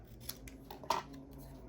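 Scissors snip through card stock while making a greeting card, a few faint, quick close-up cuts in a quiet room.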